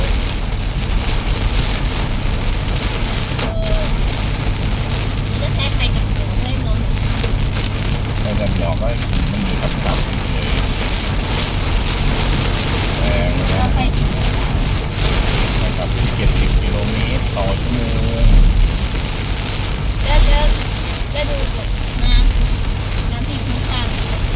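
Heavy rain pours on a car during a downpour in Udon Thani, a dense steady hiss of drumming drops heard from inside the vehicle, with voices talking faintly underneath.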